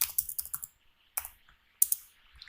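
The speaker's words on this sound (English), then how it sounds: "let me type it." Quiet bursts of computer keyboard typing, quick clusters of key clicks separated by brief pauses, close and alone.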